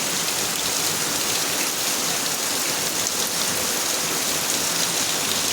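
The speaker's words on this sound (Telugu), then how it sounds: "మాకైతే ఫుల్ వర్షం కొడుతుంది." Heavy first-of-season rain pours down in a dense, unbroken roar of drops hitting the ground and surfaces, loud and close with no pauses.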